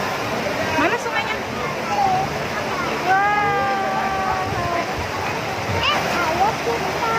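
A clear river near a campsite at Kuta Genggelang rushes steadily beneath voices talking and calling out nearby.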